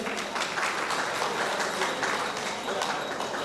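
Dense, steady applause from an audience fills the hall at a women's honours award ceremony as a guest is called to the stage, continuous and close throughout with no pauses.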